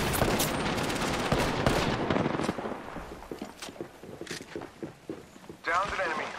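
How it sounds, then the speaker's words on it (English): Rapid bursts of video game gunfire crackle loudly through the first few seconds, then thin out into scattered, fainter shots, with a voice talking over the action. "Getting shot at."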